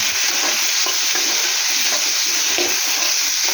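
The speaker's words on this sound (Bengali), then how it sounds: "বেশিক্ষণ না, 1 মিনিট মতো এটাকে একটু নাড়াবো। জলটা শুকিয়ে গেছে, শুকানোর পরেও আমরা একটু এটাকে নাড়াবো।" Vegetables in a masala sabji are stirred in a hot pan, giving a loud, constant sizzle with scraping pulses from the stirring. Close and continuous, with no talking.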